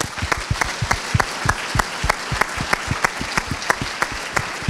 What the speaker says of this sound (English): I think we should give everybody a round of applause to our person served in our families